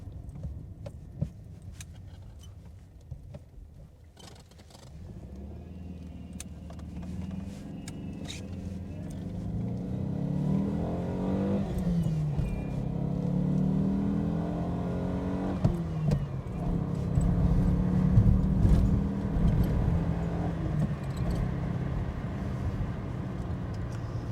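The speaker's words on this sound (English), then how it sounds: "we will take the engine through its paces" A Lancia Gamma Berlina's 140-horsepower four-cylinder engine idles, then revs and accelerates with a rising, steady drone, heard from inside the car with occasional clicks and thumps.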